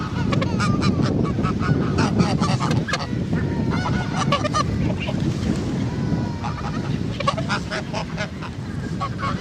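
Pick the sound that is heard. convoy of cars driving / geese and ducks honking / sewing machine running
geese and ducks honking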